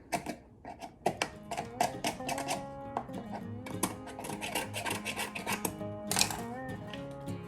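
Small plastic bits on a homemade watering can are sanded down by hand, making a quick series of dry, rasping scrapes in an irregular rhythm, close and fairly quiet.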